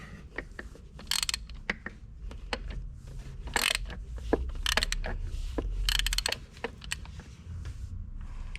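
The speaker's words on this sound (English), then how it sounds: "we're just gonna grab our wrench again, ratchet" A ratchet wrench clicks in short, quiet bursts while tightening a fitting on a Mercury 75-115 HP outboard motor during a 300-hour service, with scattered metallic ticks and clanks at close range.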